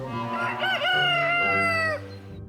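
A rooster crows once, loud and close: a long, drawn-out cock-a-doodle-doo with a rising start, held for a couple of seconds before trailing off.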